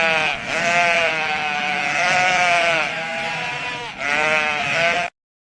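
Sheep bleating in loud, wavering, drawn-out cries, several calls run together over about five seconds with no talk, close and prominent.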